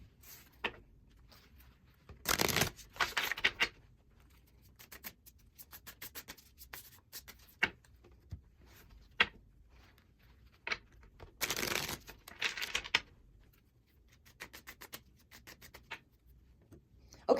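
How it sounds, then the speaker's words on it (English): Tarot cards are shuffled by hand with soft riffling and sliding, quiet stretches broken by two louder bursts of rapid flutter, close and faint overall. "So let's get these shuffled up so we can see what guidance is coming in from the card pull."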